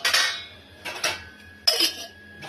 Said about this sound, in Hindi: तो गाइस बर्तन सूख चुके हैं, मैं बर्तन लगा रही हूँ।